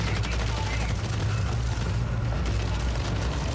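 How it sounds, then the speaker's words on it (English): Gunfire and booming blasts from the video game Marathon, a dense continuous barrage of shots and rumbling explosions filling the whole stretch, with a voice faintly mixed in. "Did I just hear a gunshot?"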